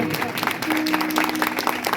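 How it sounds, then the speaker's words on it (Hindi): A church congregation at a Christmas service in Amritsar claps loudly together, a dense and continuous patter of many hands, with a voice speaking over the applause. "ताली बजाओ यीशु के नाम से, जोर से।"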